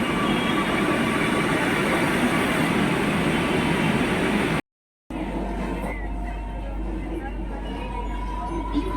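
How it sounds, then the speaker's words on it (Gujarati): Metro train at a station in Kochi, a loud steady rumble and hiss of the train filling the first half, then a brief cut to a quieter platform scene with a low hum and scattered clatter. "metro station"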